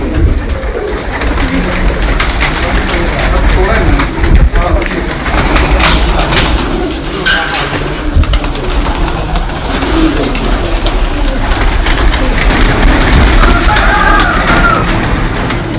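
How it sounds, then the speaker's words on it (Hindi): Pigeons on a rooftop in Rawalpindi cooing repeatedly amid distant traffic and engine hum, with people talking over them. "ये कबूतर अभी छोड़े हुए हैं"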